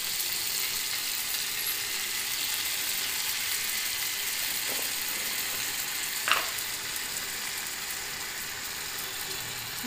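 Butter sizzling as it melts in hot oil in a pan while cooking pav bhaji, a steady close frying hiss throughout with a couple of brief sharper crackles near the middle.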